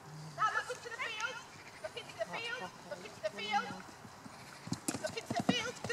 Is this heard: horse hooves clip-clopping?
yes